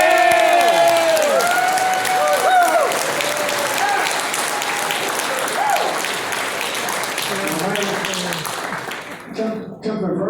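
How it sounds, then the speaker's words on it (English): An audience at a California hot rod reunion gives sustained, loud applause for honoree Mike Cook, with cheering and whistles mixed in before it tapers off. "Have a nice round of applause for Mr."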